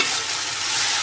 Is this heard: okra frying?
yes